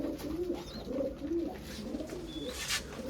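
Soft, low pigeon coos repeat in a gentle rolling rhythm at close range, with light background noise and a faint chirp.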